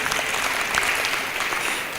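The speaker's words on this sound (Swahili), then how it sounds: "Tupigie county government ya Meru makofi." Audience applause for the Meru county government at a public event in Meru, a steady dense wash of clapping from a crowd that holds even from start to finish, with no talk over it.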